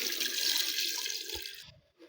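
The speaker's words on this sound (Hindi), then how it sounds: "तो यहाँ पर हम जो है तकरीबन 2 लीटर इसके अंदर पानी ऐड करेंगे।" A steady, close splashing rush of about two litres of water poured into a cooking pot for chicken karahi, ending abruptly with a couple of faint clinks.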